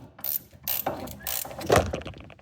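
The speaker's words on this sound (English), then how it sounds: "So I can grab this washer with my vice grips and then turn this bolt from the top, and that frees it up." A bolt on a 2002 Ford Ranger sway bar link is turned from the top while vice grips hold the washer, giving close metallic ratcheting clicks and scraping in short bursts, without talk.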